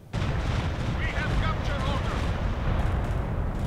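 Stuka dive-bomber strikes in Company of Heroes 2 on the Ettelbruck Station map: a rolling, continuous barrage of deep booms and blasts, loud and sustained, with a siren-like wavering whine above and some voices mixed in.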